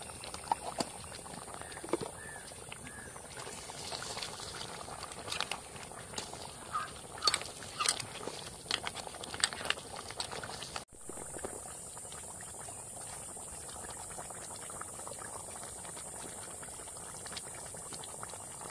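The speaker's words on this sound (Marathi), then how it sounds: "तर उकाळ आलाय मस्त बघा." A pot of water boiling hard while crab curry is cooked, with continuous bubbling and sputtering plus scattered louder pops. A steady high insect-like whine runs throughout, and no one speaks.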